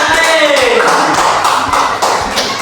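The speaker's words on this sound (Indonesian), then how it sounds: "Tepuk tangan." Students clap their hands together in a classroom, a dense burst of many overlapping claps filling the room, loud and steady throughout, with a voice speaking briefly at the start.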